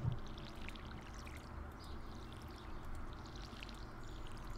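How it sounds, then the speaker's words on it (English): A watering can pouring onto crops in the farming game Stardew Valley, a soft steady stream of splashing water that runs unbroken and fairly quiet throughout. "And now to pointlessly water them."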